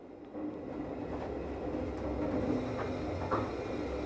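A Rhaetian Railway train runs through a tunnel on the Vereina line in Switzerland, giving a steady, enclosed rumble with faint rail clatter and occasional metallic squeaks. No voices are heard.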